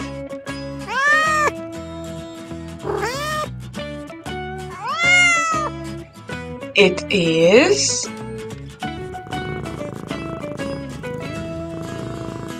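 Several distinct cat meows rise and fall over a soft purring texture, with a child-friendly voice speaking briefly among the cat sounds.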